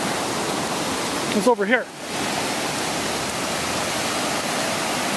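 Floodwater of Jewell Brook in Ludlow, Vermont, rages under a Main Street bridge about five feet below the deck, a loud, steady rushing roar throughout, with a brief spoken phrase partway through.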